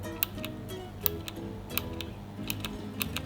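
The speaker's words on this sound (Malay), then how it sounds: "Saya kalau tekan separuh dia akan bunyi klik." Clicky blue-switch keys on a mechanical keyboard, the Maibenben DMK02, pressed one at a time in a steady, uneven rhythm of sharp close clicks, about a dozen over a few seconds in a quiet room.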